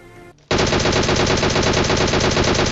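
Rapid automatic gunfire rattles in a battle royale video game, one loud, sustained, evenly paced burst of shots close up after a brief quieter moment.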